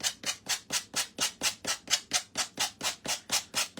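Wood being hand-sanded with 150 grit sandpaper in brisk, even back-and-forth strokes, about four per second, each a loud, close rasping swish with no talk.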